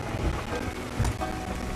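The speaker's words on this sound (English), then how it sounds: "Probably gonna take a little bit of damage from this storm" Steady heavy rain and rumbling storm noise at sea in the pirate game Sea of Thieves, a continuous wash with a couple of low thuds, no voices.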